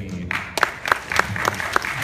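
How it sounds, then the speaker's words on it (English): Short burst of scattered, thin audience applause at a ConBravo 2015 convention panel, a few sparse claps over about two seconds in a large room with light crowd murmur. "That was a pity clap"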